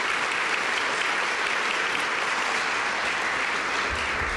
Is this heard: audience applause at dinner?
yes